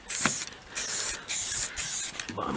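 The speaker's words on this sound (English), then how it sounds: "I'm applying just enough paint here so that it doesn't run or sag" An aerosol spray can hisses in four short bursts as paint goes onto a VW Beetle wheel, each spray about half a second long with brief pauses between and a faint click near the end.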